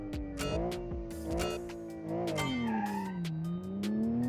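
A 1990 super sedan with an automatic gearbox accelerating on a test drive, its engine note rising and falling through several revving surges, with a brief tire squeal, close and clear.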